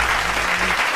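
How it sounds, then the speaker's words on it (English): Dense applause, steady and loud across the full second, with no clear voices over it. "Let me clap it up, man. Clap it up for the noise."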